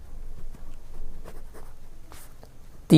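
Pen writing a math equation on paper during a Class 10 lesson, faint close scratching strokes in short irregular bursts, ending with a sudden louder knock or clatter.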